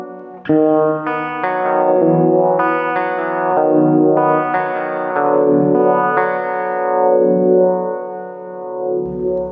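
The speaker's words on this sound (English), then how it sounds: "The wah sounds are a bit more performance ready." Sustained chords on a Technics SX-KN6000 keyboard processed through a sweeping wah filter, the tone slowly opening and closing across several changes, loud and continuous with an echoing tail.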